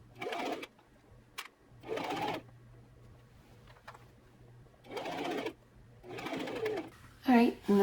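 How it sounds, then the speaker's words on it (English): A sewing machine stitches a skirt onto a cotton elastic-waist dress in several short bursts of whirring, separated by quiet pauses, fairly soft and close, with a brief voice-like sound near the end. "I'm just gonna sew this on and I hope my bobbin lasts through this."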